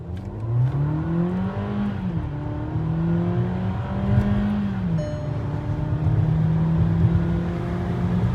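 A Volkswagen Taigun GT Plus 2025 accelerates from 0 to 100, its engine note climbing steadily in pitch through several gear changes, loud and continuous from inside the car.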